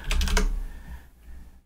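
Quick burst of typing on a computer keyboard, several rapid close key clicks at the start, then quieter background with a faint tap.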